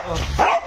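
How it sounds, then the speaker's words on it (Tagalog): A dog gives a single short bark, close and fairly loud, within a brief moment amid background noise. "Aso."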